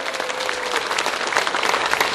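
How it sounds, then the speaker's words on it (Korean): A church congregation gives a short, dense round of applause at the start of a Sunday service on the first week of the year, steady and close with no talking. "주님 앞에 첫 해 첫 주를 시작하면서 영광의 박수를 드립시다."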